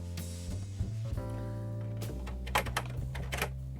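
Keys clack on a Commodore 64 (C64 Maxi) keyboard in a short burst of irregular, close taps, layered over a steady low electronic hum, with no one talking.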